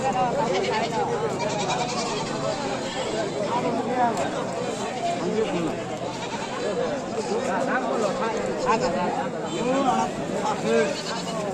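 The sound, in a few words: goats bleating at livestock market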